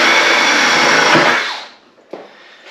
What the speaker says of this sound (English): we're going to go ahead and drill us a hole up through here